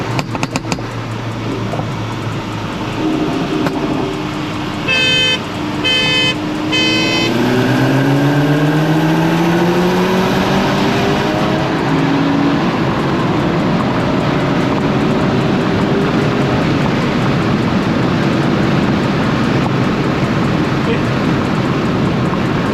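Volkswagen MK6 GTI revving hard, with engine sweeps rising and falling and turbo spool audible, a loud, close, continuous run of exhaust noise for most of the stretch.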